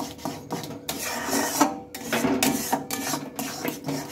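Raw mango pulp mixed with black salt is stirred in a pan, giving close, steady scraping and rasping strokes of a utensil against the metal in an irregular rhythm, with no talking.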